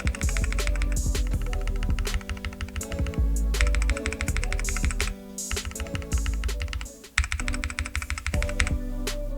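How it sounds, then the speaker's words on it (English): Mechanical keyboard typing on a Royal Kludge RK68, comparing lubed Gateron Red switches with stock Aqua King switches: continuous loud rapid keystroke clatter with dense rhythmic clicks, close up, no talking. "Here's a comparison between the loop Gatoron Reds versus the stock Aqua Kings."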